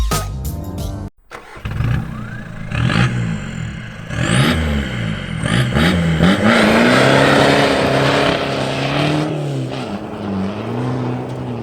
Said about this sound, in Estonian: Ma lähen oma mugava linnamaasturiga kohe metsa vallutama.